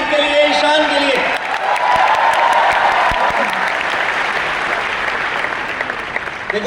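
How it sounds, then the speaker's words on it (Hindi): Audience at a live testimony event bursting into loud, sustained applause with scattered cheers, a dense wash of clapping that slowly fades over several seconds, with a voice speaking over the start. "एक बार जोरदार तालियां रोहित के लिए"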